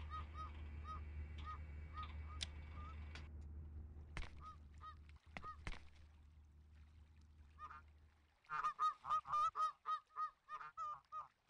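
Geese honking in the video game Thirty Flights of Loving: a flock gives repeated nasal honks over a low hum, starting faint and rising to a loud, rapid run of close honks in the last few seconds.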